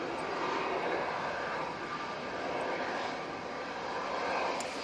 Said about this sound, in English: And this is off to Maham using A321neo.